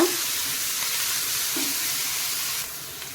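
Onions frying in hot oil for a street-style vada pav filling, giving a steady, close broadband sizzle that holds level throughout and eases slightly near the end, with no talking.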